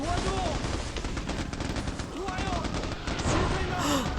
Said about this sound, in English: I guess Nilsson didn't qualify in the 50 cal either, since these shots are going all over the place.